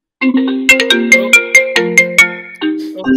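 A loud electronic phone ringtone plays a bright, bouncy melody of short repeated notes, close and clear with nothing else underneath.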